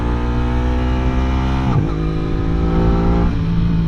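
An Aprilia RS 660 motorcycle engine howls at high revs, the pitch dropping sharply at each quick gear shift before climbing again, loud and close without talk.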